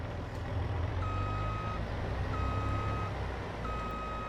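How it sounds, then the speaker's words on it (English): A combine harvester in Farming Simulator 22 runs its diesel engine in a low, steady rumble, while evenly spaced reversing beeps sound over it. "Oh, that's got a good diesel sound."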